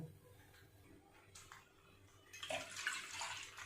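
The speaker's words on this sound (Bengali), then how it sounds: "2 প্যাকেট দুধ বাটির মধ্যে ঢেলে নিলাম।" Milk from two packets pours into a bowl for making chhana for kalakand, a close steady liquid stream that swells and brightens in the second half after quieter handling sounds.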